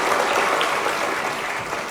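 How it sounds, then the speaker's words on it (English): Sustained applause from an awards-night audience, steady dense clapping filling the whole stretch with no pauses or voices on top. "Let's give a warm round of applause again to our champion in Congress."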